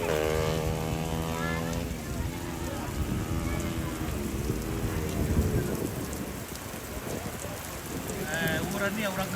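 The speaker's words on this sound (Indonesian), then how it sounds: "Wah, deras sekali hujan ini guys." Heavy rain pounding down at a road race circuit at Rantetayo, a dense, loud, continuous wash with rumbling underneath, while a voice talks over it at times.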